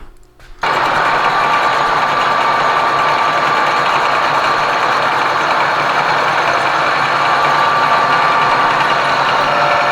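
A metal lathe in a workshop takes a light fifteen-thousandths cut on a part, a loud steady whirring drone that starts abruptly after a brief quiet moment and runs continuously, close by with no speech.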